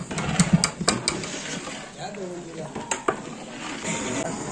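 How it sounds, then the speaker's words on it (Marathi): Papad sizzle in hot oil in a kadhai as part of a thousand-papad batch, a soft crackling hiss with sharp clicks and clatters while people talk nearby. "इथे बघा पाहू शकता समोर कढईमध्ये तुम्हाला दिसत असेल पापड तळताना"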